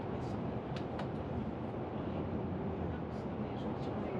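Irish Rail Dublin to Cork first-class service heard from inside the carriage: a steady low rumble and roar of the train running, continuous and fairly quiet, with faint high squeaks now and then.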